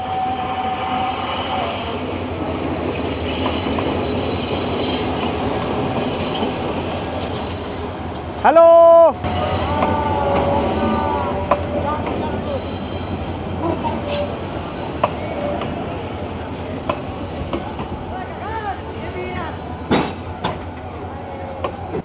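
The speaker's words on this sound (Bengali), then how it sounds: "খুব সুন্দর একটা ছটপটে সবুজ রঙের রেলগাড়ি, অনেকটা ঘাসেরই মতো কালার, ভীষণ সুন্দর" A green passenger train rolls through a busy station at Chandpur, its wheels rumbling and clacking steadily, with a sharp horn blast midway and people talking around the platform.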